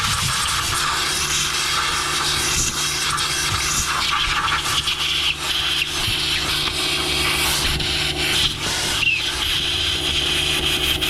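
An air compressor hose hisses with a steady, close, continuous rush of blowing air, used while cleaning muck from a wood chipper during a blade change, with faint scraping underneath.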